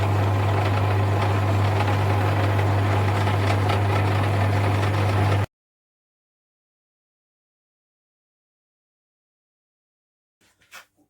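Lathe turning a bush for a Hayabusa wheel, a loud steady motor hum with a constant low drone and busy cutting noise for about five seconds, then cutting off abruptly into silence with a faint knock near the end.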